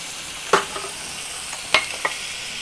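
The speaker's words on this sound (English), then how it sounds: "next thing I'm going to do with my sauce is throw in a little bit of Chinese rice wine" Chinese rice wine splashing into a hot pan of chilli crab sauce, a soft steady sizzle broken by two sharp, short bursts of spitting and a lighter pop near the end.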